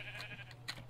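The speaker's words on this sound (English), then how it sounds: "Unfortunately, we must kill the sheep" Sheep in the video game Minecraft bleat in a couple of short, clear calls over a steady low game hum.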